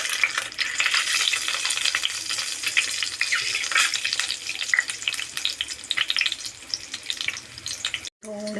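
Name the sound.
frying cut boiled eggs in pan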